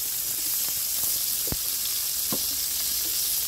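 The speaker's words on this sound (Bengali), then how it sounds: "এখন কড়াইয়ের মধ্যে হচ্ছে পেঁয়াজ কুচি, রসুন কুচি দিয়ে নিলাম। এখন সাদা সয়াবিন তেল দিয়ে দিচ্ছি।" Chopped onion and garlic frying in soybean oil in a wok make a faint, even hiss, with a few soft taps from stirring.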